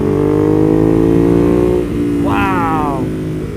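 Ducati Monster 821 Stealth motorcycle running close and loud, a steady engine drone that dips and swells as it revs on a 2020 ride, with wind noise around it and a voice briefly calling out over it.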